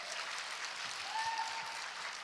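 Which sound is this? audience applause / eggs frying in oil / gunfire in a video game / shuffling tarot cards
audience applause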